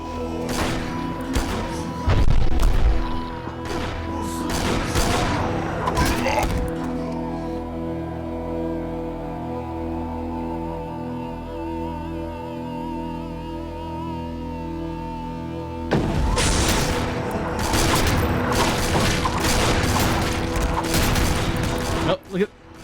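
Gunfire and combat from the first-person shooter E.Y.E: Divine Cybermancy, with dense bursts of shots and heavy thuds at the start, a quieter stretch of droning ambience, then another loud run of rapid shooting near the end.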